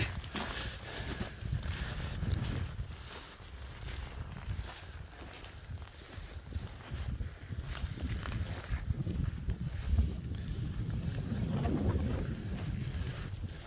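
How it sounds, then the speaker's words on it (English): Wind buffets the microphone outdoors beside the muddy banks of the River Mersey in Liverpool, a steady low rumble with gusts that swell and fade, alone without talk. "Trying to get that bloody wind out the way."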